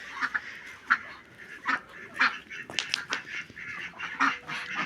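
Turkeys and chickens are fed in the evening in a farmyard, giving repeated honking, gobbling calls and clucks at irregular intervals close by, over steady background noise.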